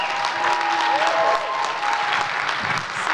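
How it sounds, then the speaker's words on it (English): Audience applause at Rhode Island Comic Con 2021, a dense, sustained clapping from a large crowd with a few cheers, loud and steady throughout. "Give him a round of applause."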